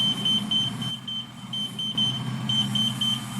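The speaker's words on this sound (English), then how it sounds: "They're beeping me even as I speak." A steady series of high electronic beeps repeats at a regular pace over a low, rumbling vehicle-like hum in an audio movie.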